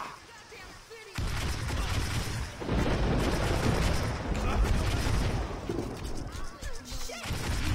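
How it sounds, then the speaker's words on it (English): Gunfire in the video game Saints Row 2, dense continuous shots and crashes running steadily for several seconds after a quieter opening, loud and close. "Getting shot behind me."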